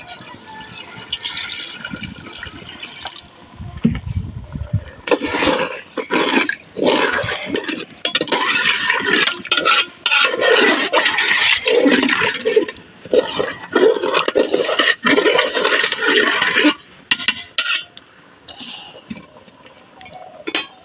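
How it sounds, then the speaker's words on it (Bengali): Water poured into a pan of rice being fried for Bengali khichuri, a broad gushing, sizzling splash with clinks of utensils, loud and continuous for most of the stretch before tapering off. "এখন দিয়ে দিলাম পানি।"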